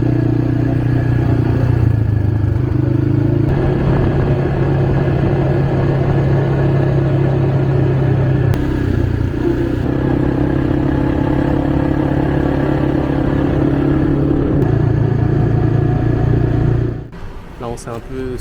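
A quad bike engine drones steadily throughout a ride, a loud, close, sustained hum with slight shifts in pitch, before it cuts off abruptly near the end.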